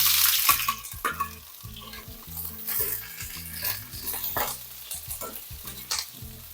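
A large chopped onion is tossed into a hot pan and sizzles steadily, the hiss swelling and easing with bursts of stirring and occasional utensil knocks, close and moderately loud, with no one speaking.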